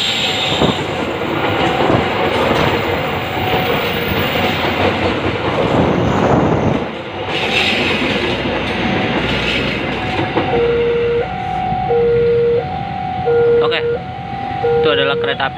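A passenger train rumbles past with rhythmic clacking of wheels on rails in Indonesia, while a repeating two-tone chime sounds over the steady roar.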